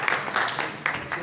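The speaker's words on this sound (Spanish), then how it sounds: "Aplausos" An audience at a talk on women's human rights claps in brief, uneven bursts of applause. The clapping is moderately close and fades in and out without voices.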